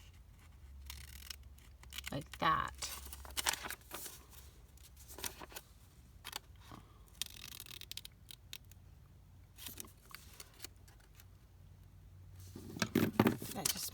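Small scissors snip faintly a few times in a quiet room during a crafting session, with soft handling noises between cuts and a person talking quietly.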